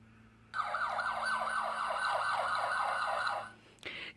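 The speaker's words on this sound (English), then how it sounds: "The loud siren warns other drivers to move aside and let the police cars pass." A police car siren wails in a fast, regular up-and-down yelp for about three seconds, fairly loud and near, then cuts off abruptly, followed by a brief burst of other noise.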